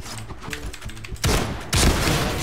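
Rapid gunfire in the Point Blank online shooter video game, starting with a clattering run of quick shots and then two dense, loud bursts of sustained automatic fire close up, with no talking.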